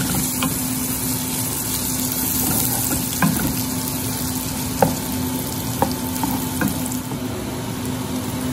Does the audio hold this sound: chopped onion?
yes